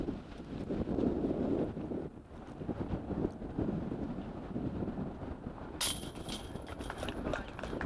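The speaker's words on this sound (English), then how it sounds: "I like having those course microphones on because you can hear just how windy it is." Strong wind buffets the microphones on an outdoor golf course during a tournament. The rumbling gusts run steadily throughout, and a sharp clatter comes near the end.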